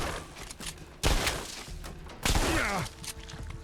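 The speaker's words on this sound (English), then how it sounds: "No, just a very explosive shotgun." An explosive shotgun in the video game Fallout 4: London goes off twice, each shot a loud blast with a short booming tail, set against a steady bed of game noise.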